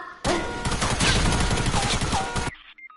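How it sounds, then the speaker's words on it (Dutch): A sustained burst of rapid video game gunfire, many dense shots packed together for about two seconds, loud and close, then it cuts off abruptly. "Nou, waarom schoten ze?"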